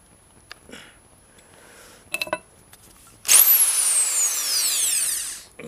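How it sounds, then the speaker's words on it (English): A hammer drill bores into an inline skate frame bolt, bursting into a loud high whining grind after a few faint clicks and handling noises, then holding steady for about two seconds. "I'm going to swap the drill over to drill instead of the hammer,"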